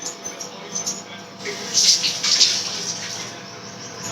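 Liquid poured into a simmering Tamil prawn kuzhambu (prawn curry) makes a brief, soft splashing trickle that swells for about a second in the middle, over a low background murmur.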